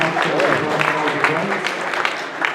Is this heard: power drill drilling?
no